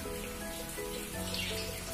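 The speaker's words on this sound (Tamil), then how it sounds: "நல்லா மழை பெஞ்சிட்ருக்கு" Heavy rain falls steadily outdoors, a dense, even patter with a low background hum that runs unbroken from start to finish, with no voices.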